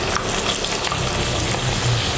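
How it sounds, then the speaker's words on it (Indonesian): Flour-coated pindang tongkol tuna fries in hot oil, giving a loud, continuous close-up sizzle with crackling and a few sharper pops, with no voices over it. "Biasanya kalau kita menggoreng ikan cuek atau ikan pindang tongkol, itu pasti akan meledak serumah-rumah"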